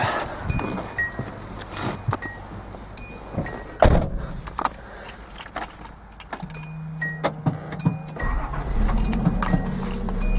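A stock Datsun 280ZX Turbo with its original 2-inch muffler and a faulty idle air regulator, cold: clicks and clunks, then the engine cranks and catches into a low, rumbling idle that grows steadier toward the end.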